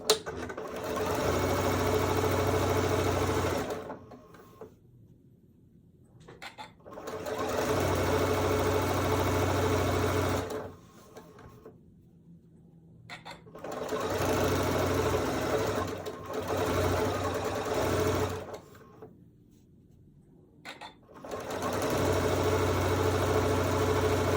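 A sewing machine pieces a quilt block, running in three long steady bursts of rapid stitching separated by brief quiet pauses, close and fairly loud.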